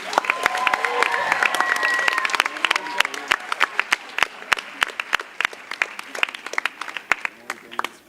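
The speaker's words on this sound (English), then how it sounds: "A big round of applause for them, please." Applause at a school closing ceremony, with crowd voices and cheering mixed in at first, then settling into sharp, distinct claps that continue steadily and grow sparser.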